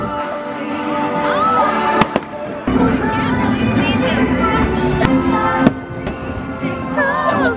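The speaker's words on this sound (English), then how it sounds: "we're waiting for fireworks" Fireworks at a Disney park: sharp bursts crack at intervals above a dense, continuous crowd murmur with voices and whistling tones, the booms loud and close.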